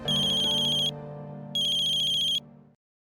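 A phone ringtone plays in two bright electronic bursts over a sustained tone, then cuts off abruptly into silence.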